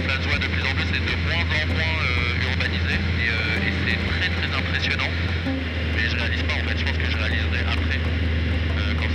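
Droning engine of a small airplane flying along the coast, steady and loud throughout, with French speech over it.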